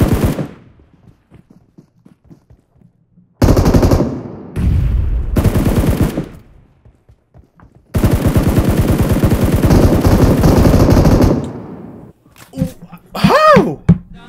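Rapid automatic gunfire in the PUBG Mobile video game, long dense bursts of rattling shots with short pauses between them, loud and close, with game effects and brief voices near the end.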